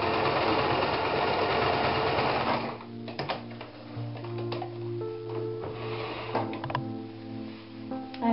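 A sewing machine stitches a zip with a loud continuous run, then slows into short stop-start bursts and a low idle hum.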